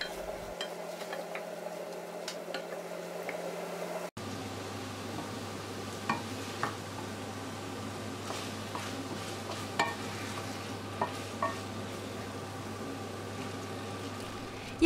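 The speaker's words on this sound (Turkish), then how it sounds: "doğramış olduğum yaklaşık 150-200 gram kadar taze bamyamı da ekledim. Kısa bir süre kavurdum." About 150–200 grams of freshly chopped okra sautés in a pan, giving a soft steady sizzle with occasional stirring clicks and scrapes; a sharp change partway suggests the okra being added before frying continues quietly.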